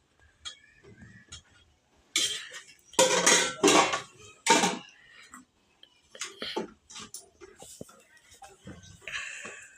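Hot rice and okra tamarind curry are served onto a plate for a home lunch, with scattered clinks and scrapes of utensil on dish. The loudest bursts cluster in the middle, and quieter knocks follow.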